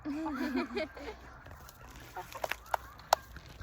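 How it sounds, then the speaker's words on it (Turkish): Soft clucking and chirping from young chickens, with a few brief louder peeps toward the end, close by over a quiet background. "Ergen tavuklar daha bunlar"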